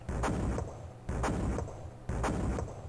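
Three heavy artillery shots in the Amiga war strategy game Historyline, each a loud booming blast with a rumbling tail that fades before the next, evenly spaced about a second apart.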